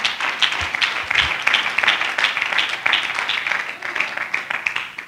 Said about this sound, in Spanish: Denle un fuerte aplauso en esta noche.